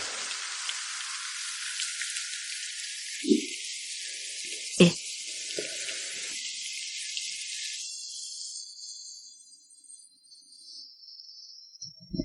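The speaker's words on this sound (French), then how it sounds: "La pluie est trop forte et la route est difficile." Steady hiss of heavy rain pours down on a rural village road during the first two thirds, with a couple of brief thumps and clatters nearby, before the downpour thins to a faint patter at the end.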